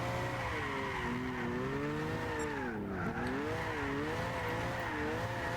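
An HKS Silvia S15 drifts in Gran Turismo 6, its engine droning steadily in fourth gear while the tires squeal continuously, the engine pitch rising and falling with the slide.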